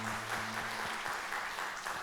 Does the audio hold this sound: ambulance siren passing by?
no